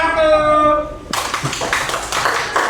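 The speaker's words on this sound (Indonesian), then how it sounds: "Kasih tepuk tangan untuk kelompok 1" A sustained tone gives way to a burst of clapping from a small group of students in a classroom, close and lively, continuing to the end.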